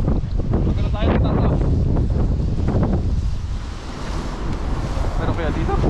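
Strong wind buffets the microphone in loud, continuous gusts, with people talking underneath.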